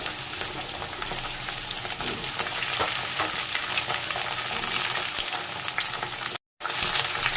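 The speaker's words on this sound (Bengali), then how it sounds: "তেল গরম হয়ে গেছে আলুগুলোকে তেলের মধ্যে ছেড়ে দিলাম ফুলকপিগুলোকেও দিয়ে দেবো" Potatoes and cauliflower frying in hot mustard oil, a loud, continuous bubbling sizzle close by with faint stirring scrapes, cut by a brief silent gap near the end before the frying resumes.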